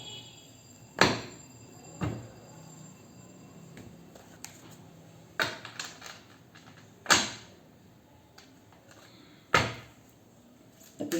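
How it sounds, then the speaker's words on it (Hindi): Tarot cards are shuffled by hand, giving several sharp riffling snaps at irregular intervals, each fading quickly into a quiet room with no talking. "अभी शफल कर रही हूँ मैं कार्ड्स।"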